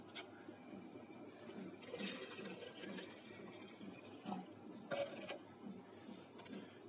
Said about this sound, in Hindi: और हम डाल देते हैं अभी इसमें से थोड़ा और पानी,